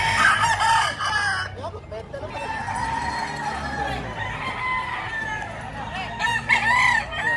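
Rooster crowing at the Padre Garcia auction market, a loud nearby crow followed by further crows and clucking from other fowl amid a busy, crowded background with faint voices.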